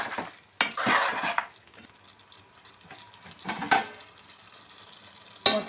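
Chicken curry with chopped coriander is mixed in a pot, heard as several bursts of spoon scraping and clinking against metal, separated by quiet gaps with a faint sizzle underneath.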